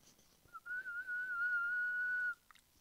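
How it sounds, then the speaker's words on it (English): A person whistles a single sustained, fairly steady tone into a microphone for about two seconds, clean and close against a quiet background, with no talking. "Whistle and record."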